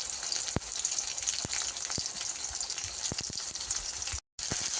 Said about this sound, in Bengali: দেখতে পাচ্ছেন পেঁয়াজ ভাজা হয়ে আসছে